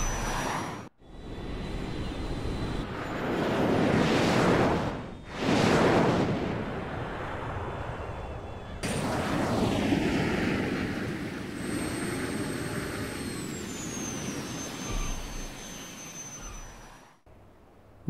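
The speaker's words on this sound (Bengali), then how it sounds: "এই হলো আমাদের প্রাইভেট এরোপ্লেনটা, যেটাতে করে আমরা কিনা এসেছি" Private airplane in the video game GTA V, a loud, steady engine roar that continues throughout with brief dips, a sharp cut near the middle and a high whine in the later part.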